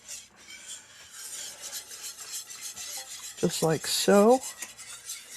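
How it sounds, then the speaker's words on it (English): A spoon scrapes and rubs around a bowl while half and half is stirred into a mixture, soft rhythmic strokes, with a short spoken remark near the end. "So now we're going to stir that together."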